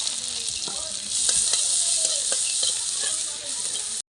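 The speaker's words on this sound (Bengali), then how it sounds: "এবার একটু রসুনটা দিয়ে আরও ভাজা ভাজা করে নেবো" Garlic frying in hot oil with fenugreek seeds and dried chillies, giving a loud, dense, continuous sizzle with a few light scrapes of stirring, close up and with no voices.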